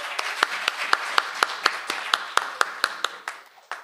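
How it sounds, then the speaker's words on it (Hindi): A crowd at a Hindi poetry recital claps in a steady rhythmic beat, about four claps per second, loud and lively, fading slightly toward the end. "एक बार जोरदार तालियां बजाइए"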